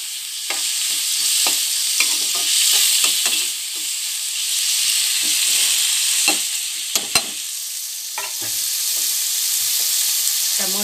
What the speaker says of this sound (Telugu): ఇప్పుడు టమోటాలు వేసుకున్నాక టమోటాలు మంచిగా వేపుకోవాలి.